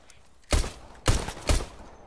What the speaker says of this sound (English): Somebody shot.